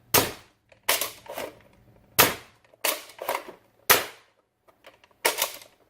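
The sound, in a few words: Worker Prophecy foam dart blaster firing darts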